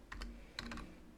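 Typing on a computer keyboard while entering math equations, two short bursts of close, crisp key clicks separated by a brief pause.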